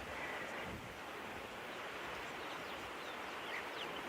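Wind blows steadily across open bush country at Treehouse Dam at sunset, a constant broadband rush with faint bird calls in the background.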